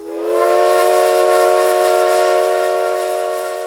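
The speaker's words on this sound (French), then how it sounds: "effrayés par le sifflet de la locomotive" A loud, sustained steam whistle blasts steadily for several seconds, rich and harmonic, then tapers slightly at the end.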